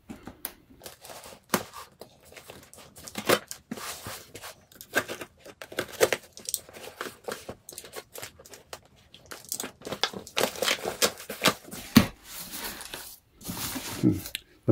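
Sharp tearing and crinkling bursts come in irregular clusters as a blade slices open crushed cardboard box packaging holding a vintage Lego gas station set, close and fairly quiet with pauses between cuts.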